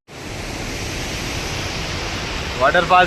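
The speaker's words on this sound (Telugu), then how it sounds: "సో వన్ సీ గాయ్స్, ఇవే అనమాట వాటర్ ఫాల్స్." A Munnar waterfall pours in a steady, full roar of rushing water that fills the whole stretch, with a voice briefly speaking over it near the end.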